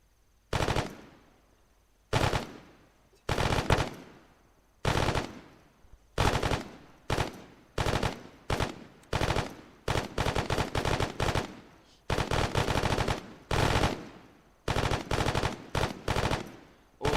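An auto rifleman in the video game ARMA 3 fires repeated bursts of automatic fire, each a rapid string of loud cracks separated by short pauses, alone without talk.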